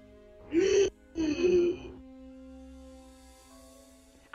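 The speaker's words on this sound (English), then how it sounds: "He's waiting for, like, your gasp." Two short, breathy gasps of surprise come close together, the second slightly drawn out, followed by quiet room tone.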